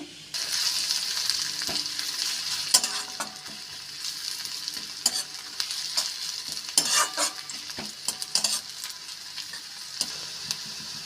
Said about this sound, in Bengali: পেঁয়াজগুলো যতক্ষণে গোল্ডেন ব্রাউন হয়ে ভাজা হয়ে আসছে